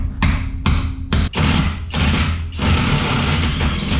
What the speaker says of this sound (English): You're not really supposed to use impacts on axle nuts, but this one's so rusty, it doesn't really give me a choice.